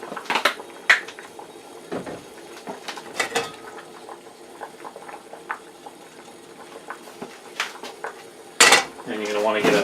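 A metal frying pan clanks and scrapes nearby, with several sharp knocks and rattles between quieter moments, plus a soft sizzling hiss of oil toward the end.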